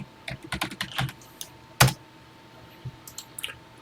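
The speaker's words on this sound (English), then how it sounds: "We'll get into Classic 99, press 1 for TI Basic, and start typing." Computer keyboard typing into the Classic 99 TI-99/4A emulator, a quiet close run of quick key taps with one sharper, louder keystroke partway through, then a few scattered presses.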